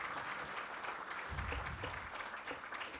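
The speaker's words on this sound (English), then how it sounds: "I need to hear a big round of applause once before I announce the results." Faint but dense applause from an audience cheering 40 contestants before results are announced at a live-streamed event, steady throughout with a low rumble swelling midway.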